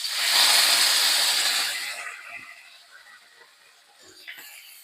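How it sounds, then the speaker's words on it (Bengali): Paneer hits hot mustard oil in a kadai, releasing a loud bright hiss of frying that gradually settles into a softer, crackling sizzle with faint pops. "দেখো তেলটা গরম হয়ে গেছে, আমি এখানে পনিরটা দিয়ে দেবো।"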